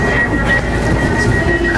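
A steady train rumble fills the clip, with a constant high whine running over the low, continuous rolling noise of a new Manila LRT carriage approaching Carriedo Station.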